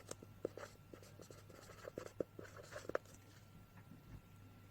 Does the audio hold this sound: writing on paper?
yes